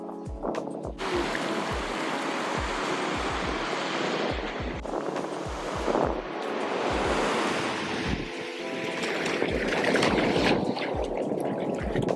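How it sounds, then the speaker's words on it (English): Ocean surf rolls and crashes on a beach beside Gladstones in California while strong wind buffets the microphone in repeated low thumps, loud and continuous with no talking. "We went to the beach right beside Gladstones and it was extremely windy"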